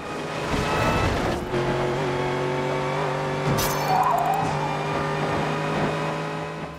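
Racing cars in the video game Blur with engine sounds restored, a steady layered engine drone with tire squeal and skidding over nearly seven seconds of continuous gameplay audio.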